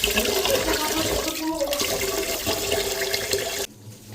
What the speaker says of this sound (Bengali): এদিক দিয়ে দেখেন খুদ খুদ ধুয়ে নেওয়া হচ্ছে, খুদের ভাত রান্না করা হবে।